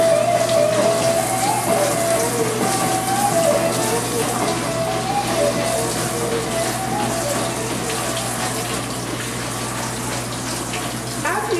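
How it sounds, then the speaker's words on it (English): Fresh corn being washed under a running tap before grilling, a steady close gush and patter of water spattering over the ears that runs the whole time without a break. "Before you grill your corn, make sure you wash it."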